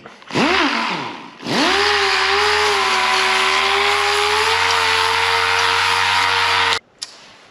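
A loud power sander whines steadily at a constant high pitch after a short spin-up, running several seconds on a 1930 car's steering area before cutting off abruptly.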